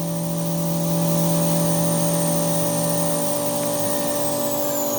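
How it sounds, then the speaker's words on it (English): A CNC machine cuts aluminum parts held by vacuum while coolant flows, giving a steady loud mechanical whine with sustained tonal hums and a high pitch that drifts downward near the end, with no talking. "It's almost done cutting now."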